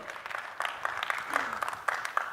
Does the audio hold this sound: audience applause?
yes